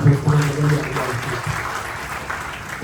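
A church congregation claps together after a sermon line, a short burst of applause under and beside a voice that trails off as the clapping thins.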